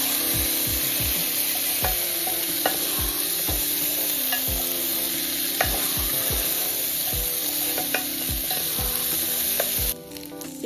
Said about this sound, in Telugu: ఇప్పుడు మనం నానబెట్టుకున్న బియ్యాన్ని శుభ్రంగా కడిగి వడగట్టి వేసేసుకోవాలి. కొంచెం సేపు వేయించుకోవాలి.